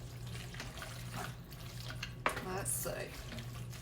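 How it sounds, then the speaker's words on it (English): Pasta water is poured into Alfredo sauce in a kitchen, a soft splashing trickle of liquid over a low steady hum, with a brief spoken remark. "this is where the pasta water comes in. We're going to pour a little bit in there just to help give it a little bit more liquid."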